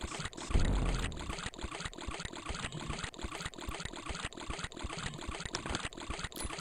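Steady trickling, splashing water in the video game Chip's Challenge, a continuous fairly faint flowing texture with a brief louder burst near the start.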